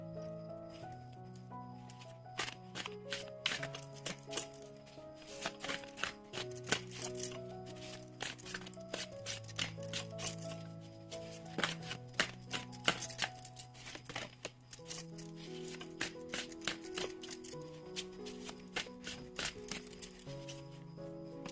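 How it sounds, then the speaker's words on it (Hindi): Oracle cards are shuffled by hand in a long run of quick, crisp riffles and slaps, close and fairly faint, with no talking. "शुरुआत करते हैं कार्ड शफल करके।"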